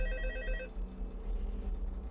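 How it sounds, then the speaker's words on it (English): An old telephone rings in Five Nights at Freddy's 2, a loud, tonal electronic ring sounding alone for about two-thirds of a second before cutting off, leaving a low hum behind. "I'm gonna listen to Phone Guy"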